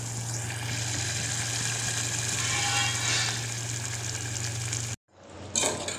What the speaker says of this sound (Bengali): এখন দিয়া দিলাম মাছটাইন, নুন হলুদ দিম, একটু ভাজা করছি মাছটাইন